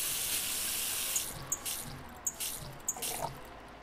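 In the Cooking Simulator video game, water runs from a tap into a pot as a steady hissing stream, then a few short splashy pulses near the end, close and alone with no speech.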